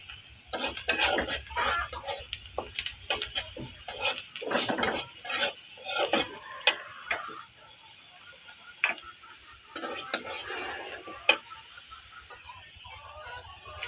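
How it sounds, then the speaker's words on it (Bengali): Turmeric frying in a little oil in a pan, with a utensil tapping and scraping the pan in quick, irregular clicks throughout, close but fairly quiet, with no voices. "এবার এই তেলটার সাথে হলুদটার একটু ভাজা ভাজা করে নেবো"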